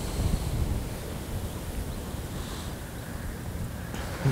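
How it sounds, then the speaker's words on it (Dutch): Strong wind blows hard across a river in a continuous roaring rush that buffets the microphone, with a surf-like wash and no talking. "De wind maakt het wel niet makkelijk voor vandaag."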